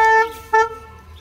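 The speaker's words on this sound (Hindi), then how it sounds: "जैसे ही मैंने वो बोनट खोलने के लिए इसको दबाया और ये वैसे ही बीप करने लग गई" Anti-theft alarm on a Hyundai Venue sounding as the bonnet is released: two loud, close electronic beeps, a longer one then a shorter one, with no talking.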